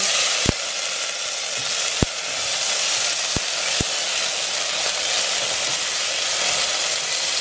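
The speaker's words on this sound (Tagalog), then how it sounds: "Habang mainit na yung mantika, ilalagay natin ang kamatis." Chopped tomatoes frying in hot cooking oil in a pan while making pork sinigang, a steady, close, bright sizzle with a few sharp clacks of a utensil striking the pan.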